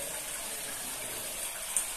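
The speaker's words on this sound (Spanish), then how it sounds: "Este es un arroyo de agua natural" A natural stream flows outdoors near a church in Nazareth, a faint, steady hiss of running water with no voices and one brief small knock near the end.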